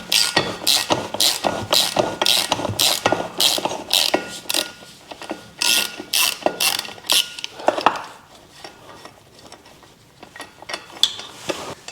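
A hand ratchet loosens bolts on the differential of a 188k-mile BMW E46 330ci, rapid close clicking strokes in repeated bursts with short pauses, then sparser clicks and metallic handling noises.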